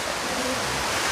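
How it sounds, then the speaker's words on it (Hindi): Waterfall along a path to a shrine, a steady broadband rush of falling water that fills the short moment evenly and close by, with no other sounds rising above it. "ये झरना वाटरफॉल मैंने आपको बताया था।"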